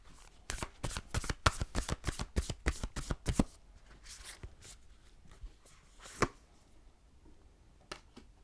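Animal spirit cards being riffled and shuffled up close, a fast rhythmic run of crisp flutters for a few seconds, then a few scattered soft slaps and shuffles, with no talking.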